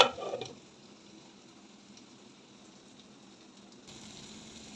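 King fish (neymeen) steaks frying under a lid in a covered pan, giving a faint, steady low sizzle that runs on evenly after a short clatter at the start.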